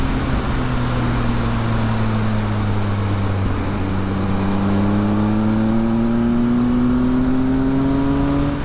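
A 2020 Triumph Speed Triple RS motorcycle engine is ridden in third gear and drones loud and steady throughout, its pitch dipping and then climbing smoothly as the rider accelerates, with wind roar underneath.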